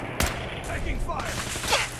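Gunfire rings out in the game Fallout 4: a sharp opening shot, then a flurry of overlapping rapid bursts and echoing cracks, loud and close, with a voice briefly heard amid the shooting.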